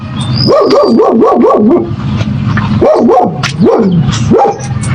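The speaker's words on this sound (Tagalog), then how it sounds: "Ay, may aso." A dog barks loudly nearby in a quick run of yaps, pauses briefly, then lets out a few more barks.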